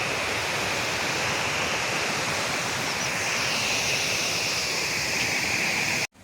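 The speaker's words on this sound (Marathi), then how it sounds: "गर्द झाडामधून नापणे धबधब्याचं पाणी आपल्याला खाली पडताना दिसत आहे." Napne waterfall pouring through dense trees, a steady, loud, broadband roar of falling water that continues unbroken before cutting off abruptly at the end.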